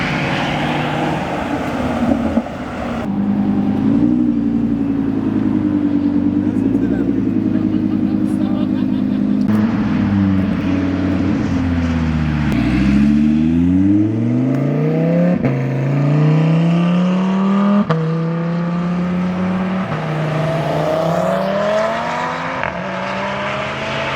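Supercars rev and pull away one after another from an exotic consignment shop car show in Raleigh, North Carolina, with loud engine roars rising and falling in pitch as each passes close by, and people talking underneath.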